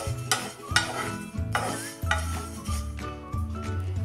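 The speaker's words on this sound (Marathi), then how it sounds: "तिळाचा अजिबात कलर न बदलू देता हे आता एकसारखं हलवून भाजून घेऊया।" Sesame seeds stirred and dry-roasted in a pan, a steady scraping shuffle with soft sizzle and occasional utensil clinks against the metal, close and continuous.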